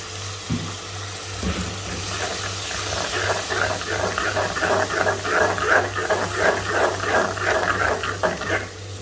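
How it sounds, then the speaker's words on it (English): Water poured into a cooking pan of chilli chicken gravy thickened with a corn flour slurry, a few knocks and then bubbling, stirring and sizzling that swells and carries on for several seconds without talk. "Add some water."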